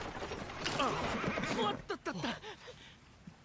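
A horse in an anime episode neighs in a loud, wavering whinny, followed by a few shorter snorting calls, with faint hoof clip-clop and light background noise.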